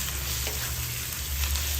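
Ground meat sizzles loudly and steadily in hot oil in a pan as it is stirred while cooking the filling for vegetable egg rolls.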